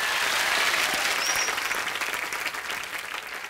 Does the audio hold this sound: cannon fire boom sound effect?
no